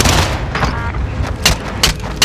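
Gunfire in a first-person shooter match, a steady rumble of distant shooting and explosions under which several sharper, louder shots burst out near the end.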